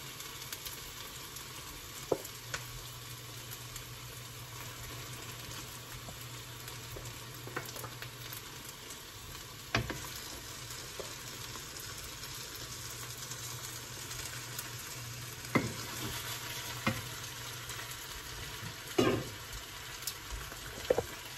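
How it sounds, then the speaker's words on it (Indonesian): Fish sautéing with chili in a pan for Manado-style woku balanga, a quiet steady sizzle running throughout with occasional soft clicks and bumps of a utensil, no talking. "Jadi ikannya kita tumis bareng-bareng cabai."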